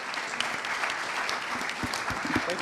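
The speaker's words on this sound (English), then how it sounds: "Please give the panelists a round of applause" A conference audience at MedTech Malta applauds the panelists with a dense, even patter of clapping that holds steady throughout the brief moment.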